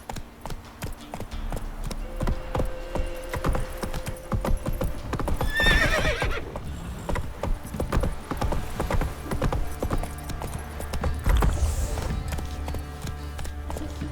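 The horse in The Witcher 3: Wild Hunt gallops with a fast, dense rhythm of hoofbeats, and a loud whinny rises midway, all close and under game music and ambience.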